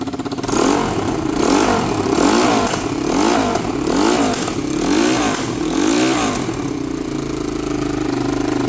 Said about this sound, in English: Free! Running motorbike.